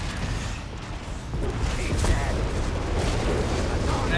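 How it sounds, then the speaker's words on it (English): Whiz bang gun firing in Company of Heroes 3, heard as a rumbling, crackling battle din with sharp bursts under a commentator's voice. "There you go, whiz bang letting loose."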